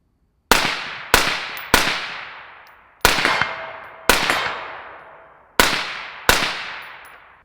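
Seven suppressed 5.56 rifle shots fired through a Black Anchor Tactical Nautilus suppressor at an outdoor range with a berm, each a sharp crack with a decaying tail, spaced unevenly at close range with no talk.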